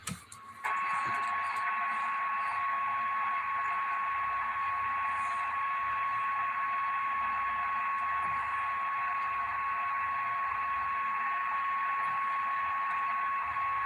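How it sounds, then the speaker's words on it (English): Steady radio static hisses continuously at an even level, with a faint tone running underneath and no voices. "Just white noise."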